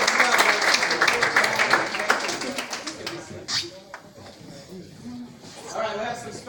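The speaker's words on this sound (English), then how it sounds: "Give a round of applause." Applause from a staff announcements gathering breaks out loudly at first as a dense patter of clapping, then thins and fades while people talk over it.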